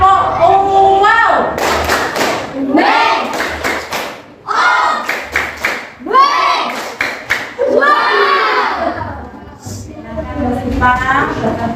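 A primary-school class in Indonesia does the 'tepuk wow' routine together, with loud, close bursts of hand claps in rhythmic groups mixed with lively children's and teacher's voices.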